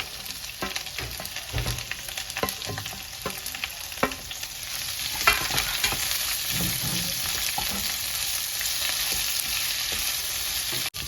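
Small chopped onions sautéing in a pan for a chicken dish, a steady loud sizzle with occasional stirring scrapes and clicks throughout, no voices.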